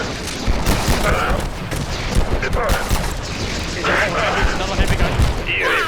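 Repeated gunfire from a shotgun-wielding enemy in the video game Abiotic Factor, a steady barrage of loud close blasts with background game noise throughout and speech mixed in.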